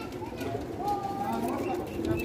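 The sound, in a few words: pigeons cooing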